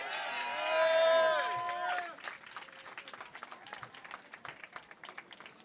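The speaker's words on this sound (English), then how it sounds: "please give a warm round of applause for the Mayor of the District of Columbia" An outdoor crowd at Ben's Chili Bowl's 55th anniversary celebration welcomes the Mayor of the District of Columbia, Vincent Gray, with applause: a brief swell of whooping voices opens, then moderately faint, scattered clapping carries on to the end.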